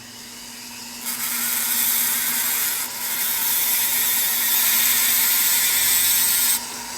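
Power tool cutting through motorcycle cable housing, a steady high-pitched grinding whine that starts about a second in, dips briefly, then runs loud and continuous before stopping near the end, with a faint hum underneath and no talk.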